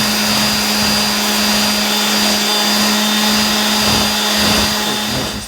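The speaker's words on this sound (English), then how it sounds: "So grab the random orbit sander and smoothen this ridge out." A random orbit sander smooths a ridge on a homemade bass guitar body, running at a loud, steady, close whir with a constant hum and no pauses.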